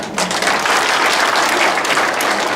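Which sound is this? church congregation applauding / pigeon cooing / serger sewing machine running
church congregation applauding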